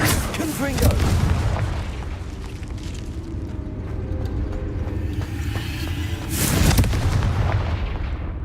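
Confringo explosive spell blasts in the video game Hogwarts Legacy, two heavy booming bursts several seconds apart over rumbling game ambience and music, the second blast the loudest.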